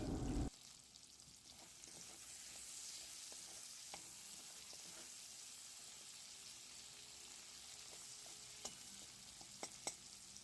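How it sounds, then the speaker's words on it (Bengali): Tomato frying in oil with salt, a soft, steady sizzle after a brief louder knock at the start, with a few faint taps of stirring near the end. "টমেটোটা এবার তেলের মধ্যে ভালো করে একটু নাড়াচাড়া করে ভেজে নেওয়া হবে।"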